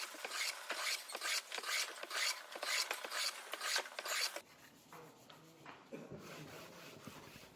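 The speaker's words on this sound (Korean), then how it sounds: "교자상의 이 판도 전체적으로 사포질을 계속 해줍니다" Sandpaper rasps back and forth across the wooden top of a Korean low folding table, strong regular strokes for about four seconds, then softer, quieter rubbing and light handling noises follow.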